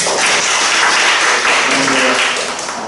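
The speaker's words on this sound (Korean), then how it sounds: "박수로." Loud applause from a seminar audience welcoming a presenter, a dense wash of clapping that stays strong and gradually eases off toward the end.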